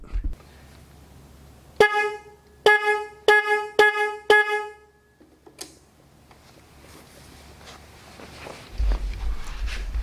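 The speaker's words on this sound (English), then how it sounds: "That's the horn that I have on there now." Five short, thin beeps of a quiet motorcycle horn ring out close by in quick succession, followed by quiet shuffling and a low rumble.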